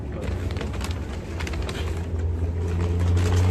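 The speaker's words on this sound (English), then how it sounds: "The bird needs water." A bird, likely a pigeon or dove, gives soft repeated coos in a village at Christmastime, with low traffic rumble and faint talk underneath.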